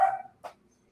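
A dog barks once loudly at the start, trailing off, followed by a second short bark or yip, heard in an apartment.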